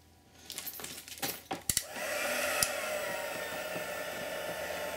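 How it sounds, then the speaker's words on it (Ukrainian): A few small clinks and taps, then a hair dryer switches on and blows with a steady, close whooshing roar as it dries freshly stamped images in ClearSnap Surfacez ink. "і зараз я їх висушу феном."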